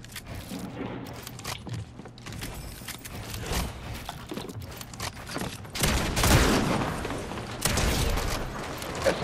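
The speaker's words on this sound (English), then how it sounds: "Lucky I reload my shotgun" Shotgun fire and rapid shooting in a Fortnite match, a steady crackle of distant gunfire building to louder, heavier blasts in the later seconds.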